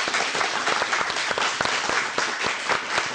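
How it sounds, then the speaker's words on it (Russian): Studio audience at a television talk show bursts into dense, steady applause, many hands clapping close and loud throughout with no talking over it. "Ваши аплодисменты."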